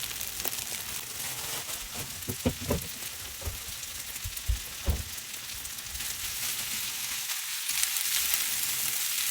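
Salad greens being stirred into a hot frying pan, giving a steady sizzle with scattered scraping stir strokes throughout and no talking.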